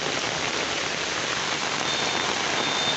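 Heavy rain pours onto a village pond in a dense, even hiss of countless drops hitting the water, constant and close for a few seconds with no voices.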